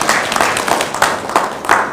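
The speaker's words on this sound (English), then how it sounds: "Please clap for us." An audience at a gala dinner claps steadily for a couple of seconds, a dense, fairly loud wash of many hands with no voices standing out.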